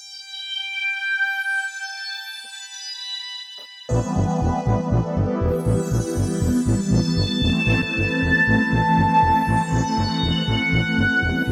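On an IK Multimedia Syntronik OXa software synthesizer, a sustained synth tone holds alone, then a rhythmic pulsing synth pattern kicks in at steady tempo, with bright sweeping harmonics rising and falling over it.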